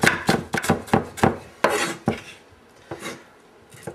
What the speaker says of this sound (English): Chop it up kind of roughly and then use a little mincing action.